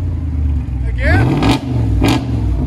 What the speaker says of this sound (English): Sound decibels again. It's right at 110.